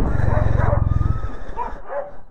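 Dogs barking at home in cold weather, a quick run of sharp, close barks followed by a few higher yips and whimpering notes, loud and lively with no talk over them.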